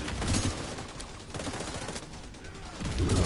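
Rapid enemy gunfire in The Division 2, dense overlapping shots and bursts filling the whole stretch at moderate level, with no clear pauses between volleys.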